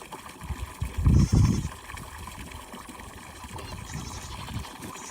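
Goats bleating in a goat film played back during a summit presentation, a couple of muffled bleats early on followed by quieter room noise.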